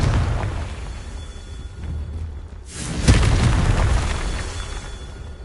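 A Confringo blasting spell explodes in Hogwarts Legacy, a deep rumbling boom with a burst near the midpoint that swells into a sustained roar before slowly fading.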